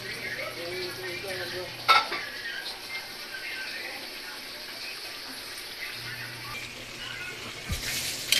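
Kinunot with soy sauce is stirred in a pan, with soft sizzling, scraping of a utensil and occasional clinks of cookware, close by under a faint background hum.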